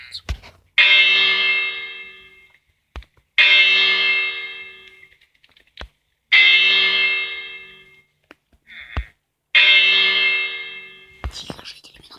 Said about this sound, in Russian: Это у нас колокол.